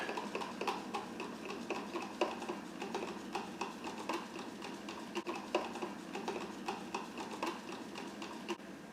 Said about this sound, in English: you stir your concoction with a spoon